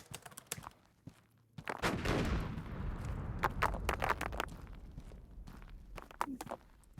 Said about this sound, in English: That's a pretty darn good dynamite sound effect